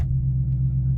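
A car engine idles while being checked for a thermostat fault, giving a steady low rumble and hum that is close and continuous, with no talk over it.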